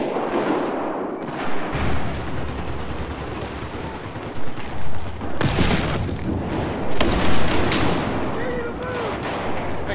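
Battlefield 4 gunfire from a Remington 870 shotgun loaded with frag rounds on the Lost Islands map: heavy booming blasts over a rumbling battle background, several sharp bursts in the second half, with a player talking throughout.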